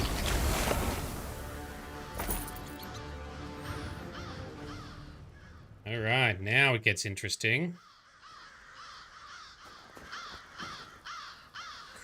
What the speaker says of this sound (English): Creepy crows, yep.